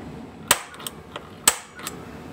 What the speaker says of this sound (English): I can take my punch, put that on my mark